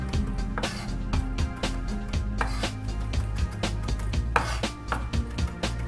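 A knife chops fresh dill on a cutting board in a home kitchen, a quick run of sharp, even taps close by, with no talking.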